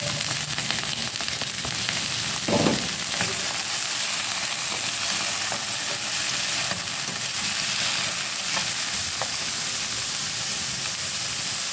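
Two kinds of leafy vegetables stir-fried with garlic in a hot pan, giving a loud, steady crackling sizzle that runs without a break, with an occasional faint clink or scrape of the utensil.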